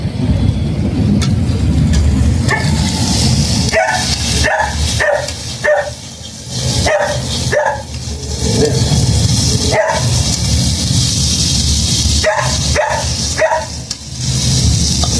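Potatoes frying in hot oil give a steady, loud broadband sizzle throughout, while a dog barks in repeated short bursts over it.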